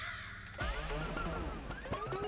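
A short, sudden chorus of crows bursts in within the game The Stanley Parable: Ultra Deluxe, with overlapping caws close and loud for about two seconds.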